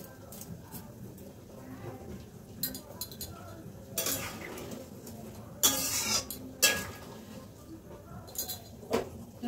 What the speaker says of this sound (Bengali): কিছু কাঁচা লঙ্কা দিয়ে দিই, খুন্তি দিয়ে কেটে দিচ্ছি